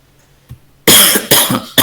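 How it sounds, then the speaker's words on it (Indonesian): A person with a lingering cough during an online scientific-publishing lecture coughs sharply about three times in quick succession, loud and close, after a moment of near silence. "karena ini masih batuk-batuk terus ini"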